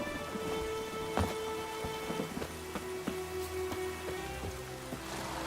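Steady rainfall in The Witcher 3: Wild Hunt, a dense continuous hiss of rain on the ground with scattered rumbles of thunder and low tonal game music underneath, no voices.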